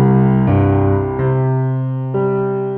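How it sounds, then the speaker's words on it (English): A Brilliant Piano software instrument from an expansion library plays sustained chords, with three clear attacks that each ring out and slowly decay, clean and close with no other sound. "I'm going to use the Brilliant Piano"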